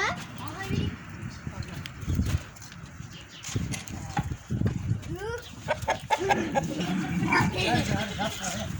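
Chickens cluck in short bursts close by, mixed with people talking over them throughout.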